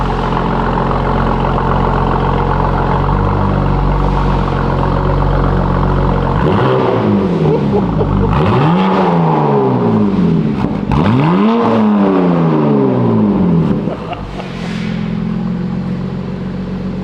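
A BMW G80 M3 fitted with an exotic aftermarket exhaust idles with a deep, steady burble, then is blipped through several sharp revs that rise and fall in quick succession before settling back to idle.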